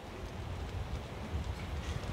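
Rain falls steadily outdoors at a shooting range, a dense, even hiss with some wind rumble on the microphone and no speech.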